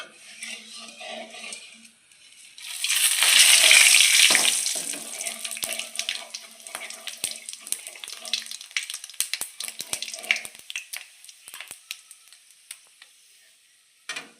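Cumin, dried chili, whole garam masala and bay leaf hitting hot oil for a doi katla curry, a loud burst of sizzling that flares up and then settles into crackling pops with spoon stirring.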